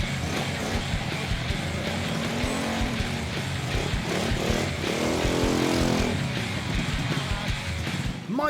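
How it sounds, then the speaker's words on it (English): A petrol-engined kart accelerates, its small motor buzzing and revving with rising pitch, heard fairly close and alone. "petrol engine means he's off to a turbo-boosted start"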